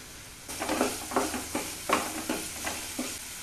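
Chopped amaranth stems frying with mustard seeds and salt, heard as a close sizzle broken by rhythmic stirring scrapes roughly every third of a second.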